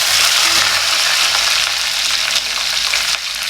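Loud, steady sizzling of shallots, green chillies and curry leaves frying in hot oil for Kerala sambar, a continuous close hiss with slight stirring.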